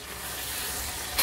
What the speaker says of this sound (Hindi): दही को भी अच्छे से भूनेंगे उसके अंदर।